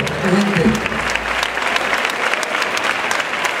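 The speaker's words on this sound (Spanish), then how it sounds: "Un aplauso a ellos." A radio studio audience claps steadily for several seconds, a dense, even burst of applause with a brief voice at the start.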